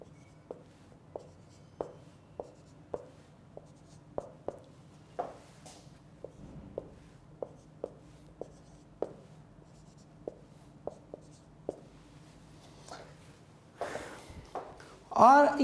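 Handwriting during an English grammar lesson makes faint, regular tapping strokes, like a pen or chalk marking a surface at a steady pace, ending with a louder rustle.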